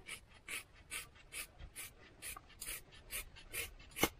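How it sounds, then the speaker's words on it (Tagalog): Scissors trimming about an inch off the ends of hair to remove split ends, a quiet, close run of about a dozen crisp snips at a steady rhythm, with one sharper cut at the end. "Ngayon, gugupitin na natin yung dulo."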